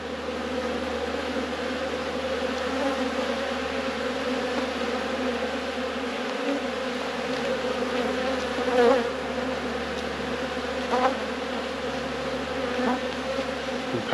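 Honey bees buzz steadily around an open hive, a dense continuous drone close by with occasional louder individual bees passing near.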